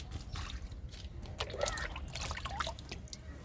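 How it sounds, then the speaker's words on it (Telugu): Homemade liquid fertilizer poured slowly in small amounts onto okra plants, soft close trickling and dribbling with irregular splashes over faint outdoor background. "లిక్విడ్ని కొంచెం కొంచెం ఇవ్వాలండి కింద పోయేటట్టు ఇవ్వకూడదు"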